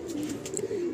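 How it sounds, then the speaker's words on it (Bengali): Mundi Sada pigeons cooing in a low, steady warble, close by, with faint rustling above. "3 জোড়া পায়রা"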